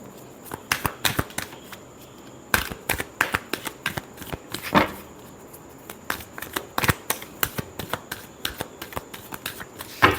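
A tarot card deck is shuffled by hand in repeated crisp riffling bursts and sharp taps, irregular and close, with brief pauses between clusters and no talk over it.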